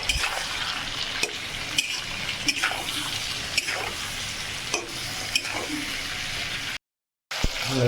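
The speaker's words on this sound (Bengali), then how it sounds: "এবার ভালো করে এগুলোকে একসাথে ভাজবো।" Snakehead fish pieces with potatoes and tomatoes fry steadily in a pan, a continuous loud sizzle broken by regular scraping strokes of stirring, with a brief drop to silence near the end.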